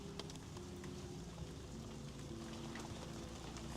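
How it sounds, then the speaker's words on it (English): Steady rain falls outside, a dense, even hiss of drops on surfaces that carries on without a break and without voices. "It's raining right now."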